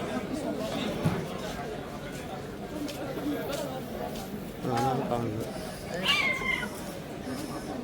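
A couple of cats meow and yowl at each other, moderately close, over ongoing talk and background chatter aboard a Nile river cruise in Egypt.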